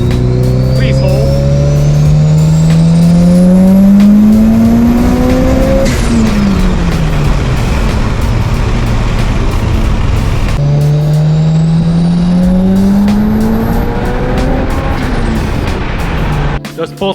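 A straight-piped 700 WHP Mitsubishi Evo revs hard through two loud full-throttle pulls toward 8,000 rpm, the exhaust note rising steadily, dropping briefly at each shift and climbing again, with a brief cut at the end.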